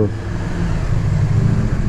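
A 2020 KTM 1290 Super Duke R motorcycle engine, a loud close low rumble held steady for a couple of seconds with slight surging.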